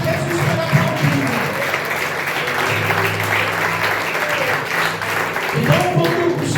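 A church congregation applauds steadily at a Holy Communion service, a dense continuous clapping that fills the room throughout, with some voices mixed into the crowd noise.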